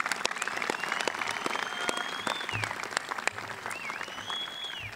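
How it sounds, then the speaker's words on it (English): A high school graduation audience applauds the Class of 2023, a continuous moderate wash of clapping with scattered sharper claps and faint whistle-like cheers over it, heard at some distance. "Let's give them one more round of applause."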